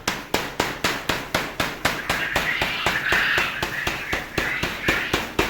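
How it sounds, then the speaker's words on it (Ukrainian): Steady, evenly spaced knocks of a rubber mallet on wood while building a quail cage, about four per second, close and crisp with no talking. "потім беру такий молоточок резиновий. І отак починаю відбивати"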